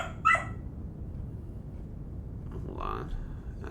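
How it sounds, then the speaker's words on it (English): A pet puppy gives a couple of short yips, one at the start and another near the end, faint and slightly distant over quiet room tone, with someone talking softly nearby. "That's my puppy."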